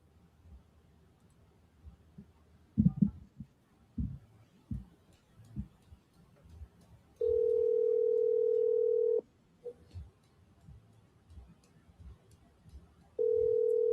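A telephone call to a seller rings out unanswered: two long, steady ring tones separated by a pause, with faint talk and low thumps underneath.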